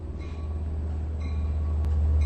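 A Long Island Rail Road train hauled by EMD DE30AC diesel locomotive 401 at Mastic-Shirley station gives off a steady, deep engine rumble with a faint high whine, continuous and moderately near.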